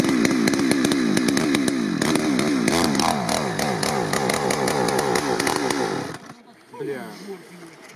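A chainsaw runs loud and close, its engine revving up and down for several seconds before cutting out, followed by brief talking.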